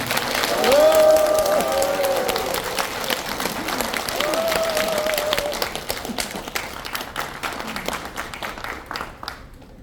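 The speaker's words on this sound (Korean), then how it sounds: "한 번 더 박수로 환영해 주시기 바랍니다" Sustained applause from a crowd at a Korean civic association gathering, welcoming a speaker to the podium; loud, dense clapping that gradually thins and fades toward the end, with faint voices underneath.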